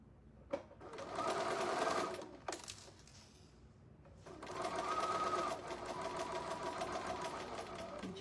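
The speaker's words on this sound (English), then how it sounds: "And we just sew to the end of our white, okay?" A sewing machine stitches fabric for a candy corn table runner in two steady runs of whirring, separated by a brief pause and small clicks, close and fairly loud with no talk over it.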